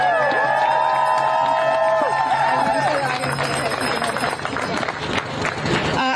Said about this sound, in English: Can we get another round of applause for Brandon?